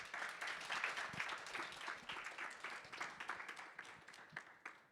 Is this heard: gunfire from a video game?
no